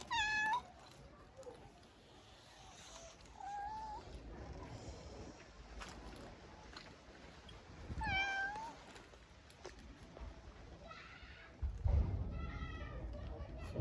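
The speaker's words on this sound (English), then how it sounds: "these cats, they never get content with food" Several cats meow repeatedly in an outdoor African village setting, short rising calls spaced through the clip, fairly near, over background voices and ambient noise with a louder rustle near the end.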